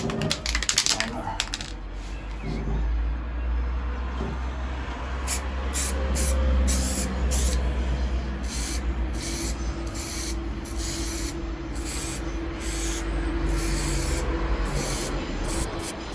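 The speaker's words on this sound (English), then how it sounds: "So now it's ready. Spray the first coat." An aerosol can sprays a first coat of primer onto a Harley-Davidson Sportster front fender during a repaint: a continuous, close hiss lasting throughout, with a bright rattling and clicking repeating over it.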